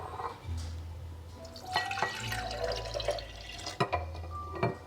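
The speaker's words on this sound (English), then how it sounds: "I just pour it back in the jar it was in." Kefir is poured back into a jar, giving a low, continuous glugging pour with a few sharp glassy knocks and splashes, close and moderately quiet.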